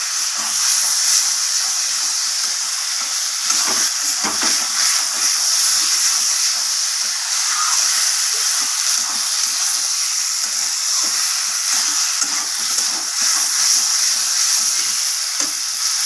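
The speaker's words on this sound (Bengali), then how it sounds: "ধনে পাতাটা দেওয়ার পর আমি আবারও নাড়িয়ে চাড়িয়ে নিচ্ছি এইভাবে" A spice paste for a rohu fish curry with potato, pointed gourd and eggplant sizzles steadily in oil as coriander leaves are stirred in, a loud continuous hiss up close with repeated soft scraping strokes of the stirring spoon.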